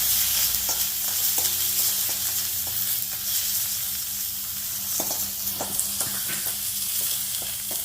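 Green chili, curry leaves and onion frying in coconut oil, a loud, dense, continuous sizzle close up with regular stirring scrapes ticking through it.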